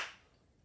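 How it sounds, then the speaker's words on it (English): A single sharp hand clap, close and crisp, that dies away quickly into near silence. "that's when we're gonna clap the letter"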